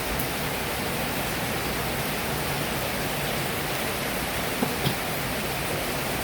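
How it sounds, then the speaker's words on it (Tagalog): Steady, dense typhoon rain hiss fills the whole stretch, broad and constant with no gaps, a couple of faint clicks near the end. "Wala nang tigil ang ulan"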